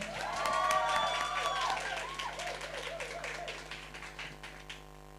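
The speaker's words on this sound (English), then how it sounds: "Give a big round of applause to Ria and Daisy." Audience applause and cheering for a dance couple at a Strictly-style ballroom fundraiser, steady clapping that swells early then tapers off, with a voice and music-like tones over it.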